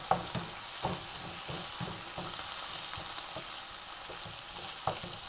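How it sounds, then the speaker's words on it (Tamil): Onions and tomatoes sauté in a pan for chicken thokku, giving a steady close-up sizzle broken by regular clinks and scrapes of stirring throughout. "ஒரு 5 நிமிஷம் நல்லா வதங்கட்டும்"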